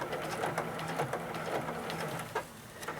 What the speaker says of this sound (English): And now I'm just going to start stitching.